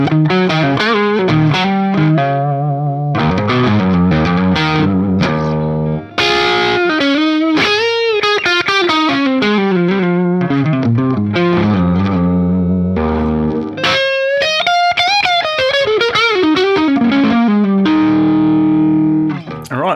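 A coldly biased 1974 Marshall JMP 50 watt amp plays sustained, distorted guitar notes and chords with crossover distortion. The tone is loud and buzzy, with short gaps between phrases.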